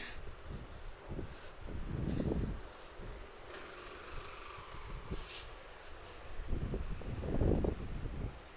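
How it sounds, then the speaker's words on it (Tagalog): Gusty, cold wind buffets the microphone outdoors on a walk in low, roaring surges that swell and fade, with faint rustling in between and no talking. "Malakas ang hangin. Ang lamig ng hampas ng hangin."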